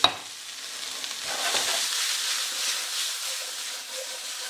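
Cooked rice and peas frying and being stirred in a pan, a steady close sizzle with a brief stir at the start and no talking.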